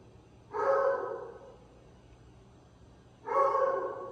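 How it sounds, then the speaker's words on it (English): A dog gives two separate barks, each a sustained, slightly drawn-out bark, spaced about three seconds apart against a quiet room background. "This dog will not shut up."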